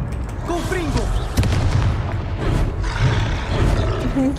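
A Confringo fire spell blasts off in Hogwarts Legacy amid a loud, busy game mix of booming impacts and roaring bursts, with a voice calling out over the action.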